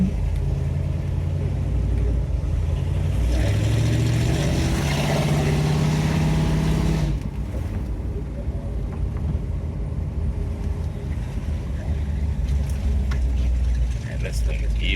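A 1971 Chevrolet Nova with a freshly built 454 V8 and Turbo 400 transmission with a shift kit accelerates hard, its deep engine roar building for several seconds inside the car before easing into a steadier rumble.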